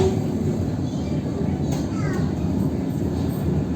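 A Vande Bharat Express train runs through Gyanpur Road station without stopping, a steady low rumble with faint squeals, heard over a person talking.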